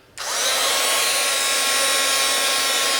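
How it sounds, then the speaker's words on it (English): A heat gun blasts hot air onto a metal dowel rod while beading with liquid clay, switching on abruptly and then roaring in a steady, loud, broadband hiss close to the microphone for the rest of the moment. "Take a metal dowel rod, and we're going to hit it for a little bit with a heat gun."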